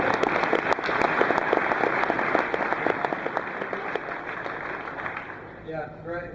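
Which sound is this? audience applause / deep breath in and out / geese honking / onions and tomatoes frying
audience applause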